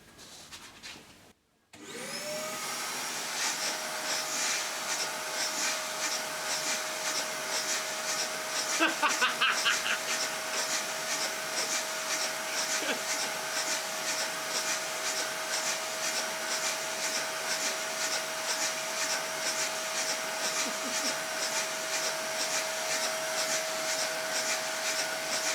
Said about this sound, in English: we'll turn on the vacuum cleaner and we'll see this thing running